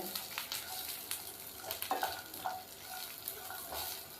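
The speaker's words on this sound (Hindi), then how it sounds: "इन दोनों चीज़ों को हम हल्का सा फ्राई कर लेते हैं" Grated dried coconut and almonds lightly fry in a pan, giving a faint, soft crackle with scattered light scraping stirs, quiet and close, no talking.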